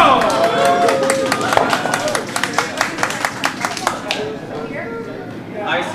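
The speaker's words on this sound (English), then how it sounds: "can I get a round of applause for your both selves?" Audience at a roller derby bout giving a round of applause, rapid dense clapping with cheers and crowd chatter that thins out toward the end.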